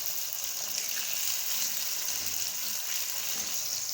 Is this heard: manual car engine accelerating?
no